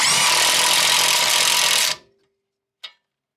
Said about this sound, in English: We're gonna find out what sizes it is and hit it with my impact and see what happens.